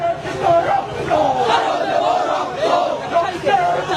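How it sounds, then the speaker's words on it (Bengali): BUET students chant slogans at a protest march over a trader's killing in Mitford, a large crowd voicing rhythmic, repeated call-like phrases that rise and fall steadily throughout, loud and close. "বিভিন্ন স্লোগানের মাধ্যমে সেই বিক্ষোভ মিছিলটি করছেন বুয়েট শিক্ষার্থীরা"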